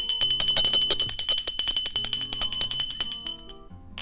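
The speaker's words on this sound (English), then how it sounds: "we ring the bell for the ancestors" A small bell is rung for the ancestors in a loud, close, bright, rapid ringing that continues steadily before fading out at the end.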